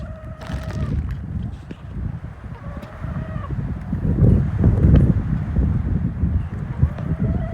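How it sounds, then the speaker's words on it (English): Gusty Arizona wind buffets the microphone in low rumbling bursts, swelling louder toward the end, with faint animal sounds and tones in the background. "And it's quite windy again today."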